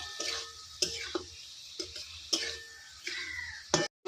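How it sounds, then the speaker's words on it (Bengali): Okra is stirred with spices in a pan for a yogurt okra dish, giving a series of short scraping and clinking strokes at irregular intervals, close and fairly quiet, with no talking. "মশলার সাথে ভালো করে মিক্স করে নিতে হবে"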